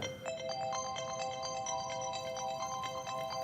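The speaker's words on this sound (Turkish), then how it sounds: "telefonun çalıyor" A phone ringtone plays steadily, a bright repeating electronic melody of quick tones, clear and close with no voices.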